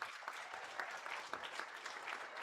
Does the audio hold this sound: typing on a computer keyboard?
no